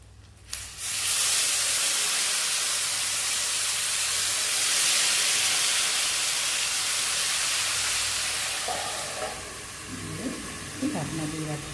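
Water splashed with leftover spice masala into a hot pan of stuffed pointed gourd gives a loud, steady hiss of steam for several seconds that slowly fades, ending with a few light clatters from the pan.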